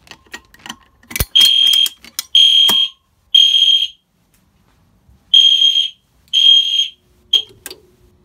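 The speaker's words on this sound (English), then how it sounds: "we're gonna do the other smoke detector in 3" A smoke alarm sounds a series of loud, shrill electronic beeps, each about half a second long, with pauses between them and a click at the start.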